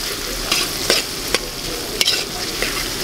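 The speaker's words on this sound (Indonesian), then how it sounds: "kita goreng dulu bahan-bahan ini sampai dia kuning kekuningan" Ingredients with black pepper stir-fry in a pan at an outdoor resort cooking session, a steady loud sizzle broken by sharp metallic scrapes and clanks of the spatula at irregular intervals, with no voices.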